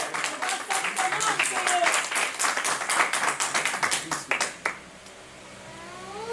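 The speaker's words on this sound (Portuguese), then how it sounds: "Dá salva de palmas ao Senhor" A church congregation claps in praise to the Lord, lively and uneven clapping mixed with voices that builds, then stops abruptly about two-thirds through, leaving a quiet room tone.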